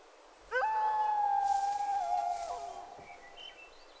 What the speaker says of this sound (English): Comey, the 15-month-old big sister, clearly expresses her unease at seeing Kitschy so close to us.